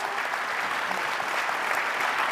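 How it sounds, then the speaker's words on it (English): An audience at a conference opening ceremony claps steadily in dense, continuous applause, close and even throughout, with no cheering or speech over it. "give a big round of applause for our Gen Zs and the young voices"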